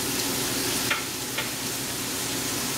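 Ahi tuna center-cut steaks sizzle steadily on a griddle over low flame, a soft, even frying hiss with a couple of faint clicks and no talking.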